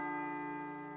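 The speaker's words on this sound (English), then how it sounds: "It sounds like a bell" A bell tolls in the video game Persona 3 Portable, one sustained ringing tone with layered harmonic overtones that hangs steadily and decays only slightly over a second, heard alone.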